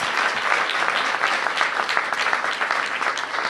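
An audience at a bill signing ceremony applauds steadily, a dense wash of many hands clapping at even loudness for the whole stretch.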